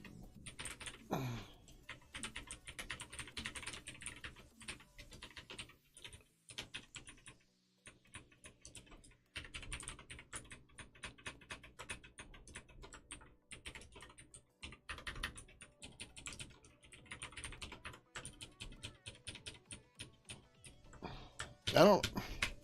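Rapid computer keyboard typing runs in irregular bursts with short pauses, close and clicky, while someone talks intermittently over the keystrokes.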